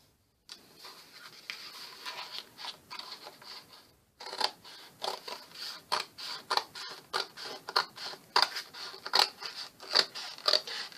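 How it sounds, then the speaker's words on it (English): A blade slices straight up the spine of a cardboard box in a quiet room, making a run of short, crisp cutting and tearing strokes that fall into a steady, repeated rhythm after a brief pause, close and fairly faint. "I'm going to cut the box, and we cut it just straight up the spine here"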